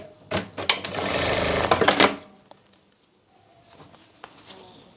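A sewing machine runs a quick, dense stitching burst through buckram on a sari belt, loud and close for about two seconds, then stops, leaving faint handling sounds.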